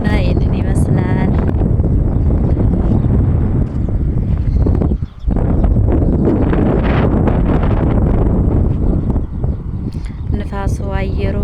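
Strong outdoor wind buffets the microphone with a loud, steady roar throughout, and a voice speaks over it.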